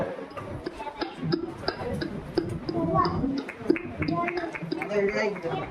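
At a school inter-house cultural competition, a voice clicks out a steady, rapid ticking rhythm imitating a car's turn indicator, repeated evenly for several seconds with some mouth noise.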